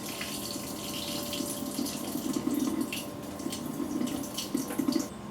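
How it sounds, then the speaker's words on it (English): Water being poured out of a cooking pot into a kitchen sink, a continuous splashing gush with irregular surges, close and moderately quiet, lasting several seconds with no voices. "So I'm just gonna pour the water out."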